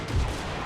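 A single booming cannon or musket volley in Napoleon: Total War, a short deep blast with a rumbling low-end tail over dense, steady battle noise.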